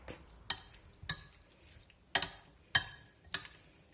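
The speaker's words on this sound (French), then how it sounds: "On mélange de nouveau et la salade est prête." Texas cowboy caviar salad tossed with utensils, five or six sharp clinks and scrapes against the bowl at irregular intervals, close and distinct against near silence.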